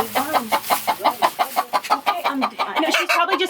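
A laying hen clucks in a rapid, rhythmic series of short close calls, loud and alone in the foreground.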